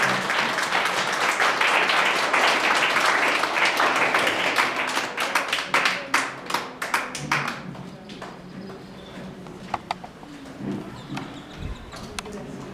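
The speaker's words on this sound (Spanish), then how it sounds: "Pues dale palmas, ponte de pie" A church congregation claps and cheers, with dense sustained applause for several seconds that thins into scattered individual claps and faint voices toward the end.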